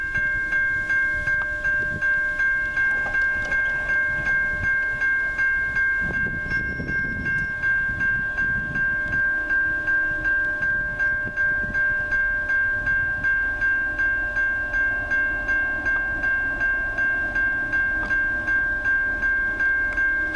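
A CN Tier 4 diesel freight locomotive rumbles steadily nearby at a crossing with a sustained engine drone, a bright warning tone and faint rail clatter.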